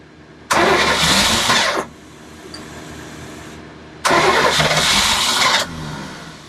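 A boat's port engine cranks and roars to life twice in loud, close bursts of roughly a second or more each, separated by a quieter pause, with no talking.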